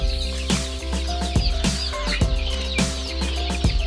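Busy chatter of baby chicks of laying-hen breeds, rapid high peeps and clucks overlapping continuously over a steady low hum, fairly close.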